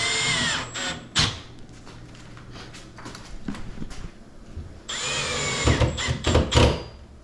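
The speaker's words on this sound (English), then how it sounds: "A couple of screws right into the bottom panel." Power drill driving a couple of screws into the bottom panel of a ready-to-assemble lazy Susan corner cabinet, heard as loud whirring bursts near the start and a longer cluster of close, rising-and-stopping drill runs in the second half.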